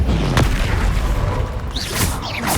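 An Incendio fire spell blasts in Hogwarts Legacy with a loud, rumbling boom and a sharp crack near the start, then a sustained roaring fire with smaller bursts and whooshes toward the end.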